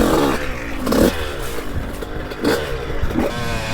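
A 2002 Honda CR125 dirt bike's two-stroke engine runs close by, buzzing raggedly with several short throttle blips rising over the steady idle.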